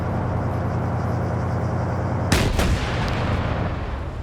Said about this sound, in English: Okay, no, that's a grenade.